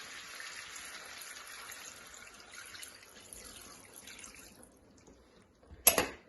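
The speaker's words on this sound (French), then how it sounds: "Et après, je rajoute de l'eau." Water is poured into a cooking pot for a Liège-style meatball dish, a continuous splashing trickle that fades out, followed by a short sharp clatter near the end.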